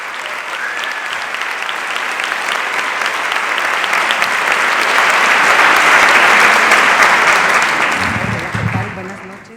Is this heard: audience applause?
yes